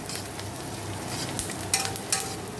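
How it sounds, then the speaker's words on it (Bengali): Garlic, green chili and onion fry in hot oil with a dense, steady sizzle, close up, broken by a couple of sharp utensil clinks as they are stirred. "রসুন আর লঙ্কাটা তেলের মধ্যে আগে দিয়ে দিয়েছি তারপর পেঁয়াজটা দিয়েছি একটু পেঁয়াজটা ভাজা ভাজা হলে কালো জিরে দেবো"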